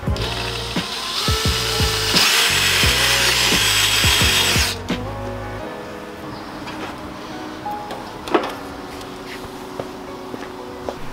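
A small hole is made in the bumper of a Nissan S13 being prepped for a drift event, with a loud, steady power-tool whir for about five seconds, punctuated by rubbing clicks, then quieter handling noises and a sharp knock.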